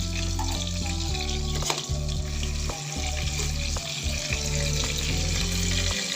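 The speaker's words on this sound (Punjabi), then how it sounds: "ਆਪਾਂ ਉਸੇ ਤੇਲ ਵਿੱਚ ਥੋੜਾ ਜਿਹਾ ਜੀਰਾ ਪਾ ਲਾਂਗੇ" Cumin seeds sizzle in hot oil left from frying paneer, a loud, continuous crackling fry with occasional spoon stirs and clinks, no voices.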